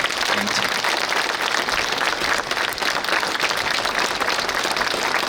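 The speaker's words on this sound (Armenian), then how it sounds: "խնդրում եմ ջերմ ծափարություններ" Warm applause from a rally crowd at an Armenia alliance campaign event in Kajaran, in honour of a fallen hero's father: dense, sustained clapping that stays loud and steady throughout.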